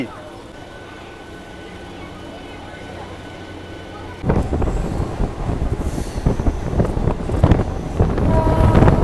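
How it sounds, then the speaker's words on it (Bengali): A local train on the Digha special pulls out of Santragachi station, starting with quiet idling then swelling into loud rumbling, clattering motion and wind noise. "আর এই ছেড়ে দিল আমার ট্রেন"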